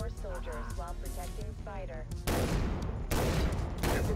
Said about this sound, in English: Oh, this is a nice shotgun.